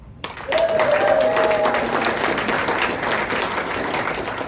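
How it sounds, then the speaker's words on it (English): A comedy show audience in Midland, Texas breaks into a loud round of applause that starts abruptly and holds steady, with a whoop rising above the clapping early on. "I want you to give me a round of applause if you have children."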